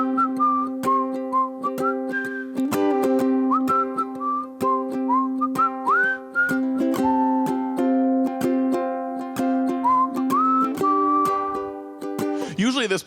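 A man whistles a melody live at a public library community room performance, bright sustained tones sliding between notes over a steady guitar-like accompaniment, filling the whole stretch alone without talk.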